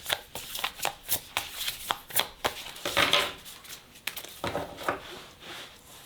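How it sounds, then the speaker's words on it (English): Cards drawn from a Prism of Visions tarot deck make a series of quick, close papery slides and flicks in an irregular rhythm, with no voices. "I'm just going to take 2 more cards from the Prism of Visions tarot deck."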